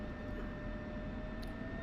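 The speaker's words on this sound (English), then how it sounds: "Spooling up." Jet engines in a video game spool up as a steady, dense roar with a high whine running over it, close and continuous throughout.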